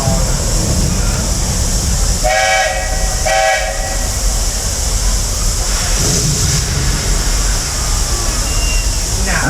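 Walt Disney World Railroad steam train running on its final weekend, a loud continuous rumble and hiss of the moving cars with two short whistle blasts in the middle, heard from on board.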